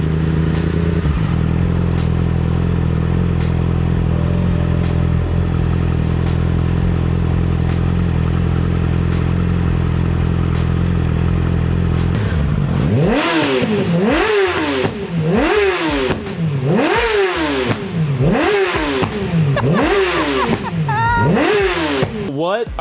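A Yamaha R6 motorcycle with an SC Project exhaust idles steadily, then revs hard in a series of about eight sharp, loud throttle blips, each rising and falling quickly, close by.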